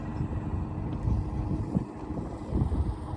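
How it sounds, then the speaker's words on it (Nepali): Strong wind buffets the microphone on cold hills in Ras Al Khaimah, producing a low, steady, gusting rumble that swells and eases throughout, with no voices. "एकदमै चिसो मौसम छ, एकदम हावा लागेको छ"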